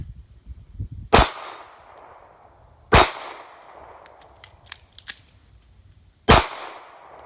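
Three loud, sharp Glock 42 .380 shots at an improvised steel target, each a hard crack with a ringing metallic clang tail, plus lighter clinks between shots outdoors.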